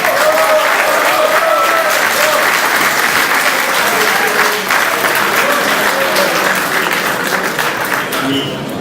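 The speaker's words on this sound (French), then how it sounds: "je vais conclure en remerciant Paul Osage, qui mérite un applaudissement" Sustained applause from a crowd at a pearl wedding anniversary celebration, steady and loud throughout, with scattered cheers mixed in and a slight fade near the end.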